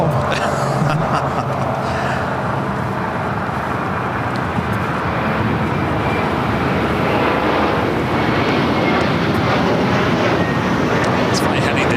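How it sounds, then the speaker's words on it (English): American Airlines Airbus A321 departing LAX for JFK, a continuous jet roar with steady broadband rumble, fairly loud and near, mixed with background road traffic and voices talking. "heading to JFK, Flight 4, A321 with American Airlines"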